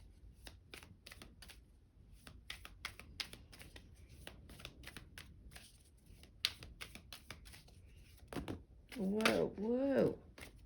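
Tarot cards shuffled by hand in rapid, crisp riffling bursts, close and fairly quiet, followed near the end by a brief spoken voice.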